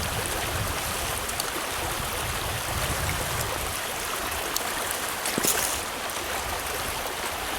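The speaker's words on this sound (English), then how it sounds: "You have this fast water." Fast-flowing water in a Pennsylvania brook trout stream, a steady close broadband rush and splash that runs unbroken throughout, with a brief louder splash partway through.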